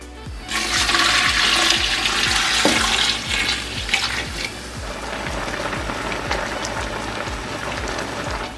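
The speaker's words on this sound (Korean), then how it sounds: "간장이 4리터 들어갔으면 물은 8리터를 넣어줄 거예요" Water pours steadily into a large pot for making crab soy marinade, a loud continuous gushing splash that eases slightly partway through, with no talking.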